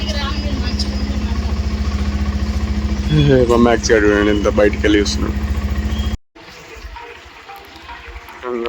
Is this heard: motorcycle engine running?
yes